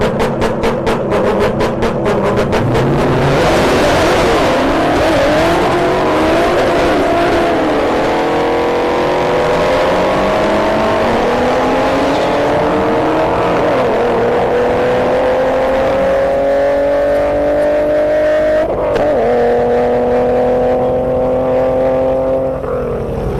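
A Hellcat Red Eye and a 5.0 Mustang drag race at a drag strip. Engines burble at the line, then roar loudly through rising gear changes as the cars accelerate hard and sustain the noise down the track.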